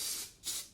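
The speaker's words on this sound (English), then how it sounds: "I'm just going to spray this one to see what it smells like." Two short hissing bursts of hair texturizing spray from a can, close and soft, the second following just after a brief gap.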